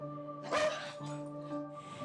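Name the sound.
dog Scamp barking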